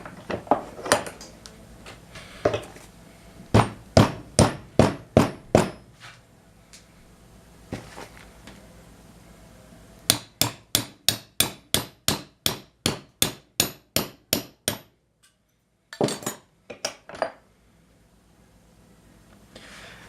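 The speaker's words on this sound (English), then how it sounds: "I'm going to go ahead and hammer it in there." Quick runs of sharp metallic hammer taps drive a bicycle valve stem into a drilled plug for a boat anchor motor, coming in rapid rhythmic bursts with brief pauses between sets; no talking.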